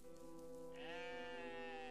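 A goat character in the OneShot video game lets out a single drawn-out, wavering bleat that rises and holds, clear and fairly close over a steady background tone.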